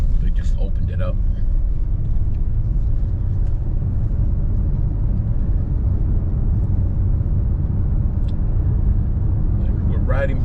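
Traffic in East Naranja, Miami-Dade, Florida, while riding behind a city bus: a loud, steady low engine and road rumble fills the whole stretch, close and unbroken, with a few faint higher sounds now and then.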